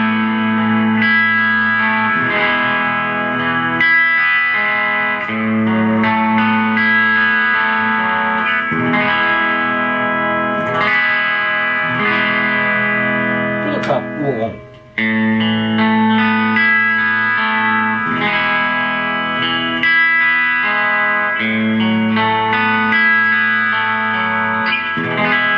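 Burny RLC-55 electric guitar played through its Seymour Duncan JB bridge pickup, a sustained distorted tone with chorus-like shimmer and ringing chords, loud and continuous with a brief dip partway through.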